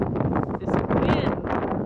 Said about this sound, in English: is really giving me a run for my money though